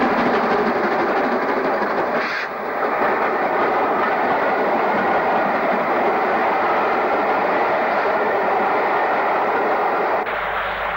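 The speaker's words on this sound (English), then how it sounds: "On the Camp Hill line, a freight southbound." A southbound 1960s freight train on the Camp Hill line near Birmingham rumbles past steadily and loudly for the whole stretch, with wagon clatter and a brief shift partway through and near the end.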